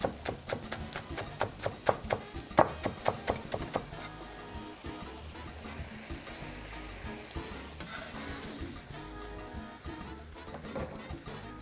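Grated ginger being stirred in a frying pan: a string of sharp spatula taps and scrapes up front, then a steady sizzle with occasional clinks, close and alone.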